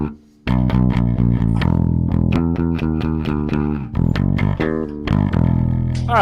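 Neck and bridge pickups blended on a Yamaha BB604 bass guitar, steady loud plucked notes in a driving run after a brief quiet start, close-miked and unaccompanied by speech.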